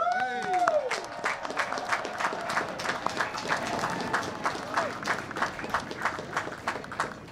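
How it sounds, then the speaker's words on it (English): Crowd applause rings out at the West Point commencement for the Class of 2020, moderately loud and sustained, with whistles and cheers mixed into the clapping. "round of applause"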